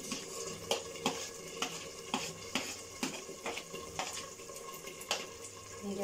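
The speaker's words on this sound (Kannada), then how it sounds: "ಈಗ ಕ್ಯಾರೆಟ್ ಹಾಕ್ಕೊಳ್ತಿದ್ದೀನಿ" Carrots going into a pan with potatoes for veg pulao, with rhythmic stirring scrapes and clinks of a utensil against the pan over a soft continuous sizzle, no voice.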